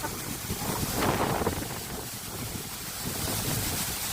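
Wind gusts hard over a microphone near a waterfall, making a steady broadband roar that swells briefly in the middle. No one speaks.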